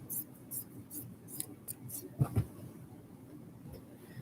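Scissors snipping through a lighter-colored cotton t-shirt cut into pieces for a memory quilt, a few soft scattered clips with two sharper, louder cuts near the middle, quiet and close.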